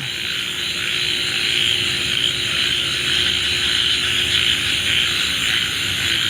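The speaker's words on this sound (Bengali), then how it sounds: "ব্যাঙ ডাকতেছে, অনেক দিন পর এরকম ব্যাঙ ডাকার শব্দ পেলাম" A dense chorus of frogs croaks steadily at night, a continuous layered drone with a thin high insect-like whine above, with no one speaking.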